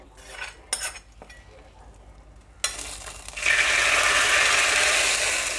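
Hot coconut oil tempered with mustard seeds, fenugreek, dried red chilli, onion and curry leaves is poured into a Kerala-style neymeen fish curry, giving a few sharp clinks and pops before a loud, sustained sizzle.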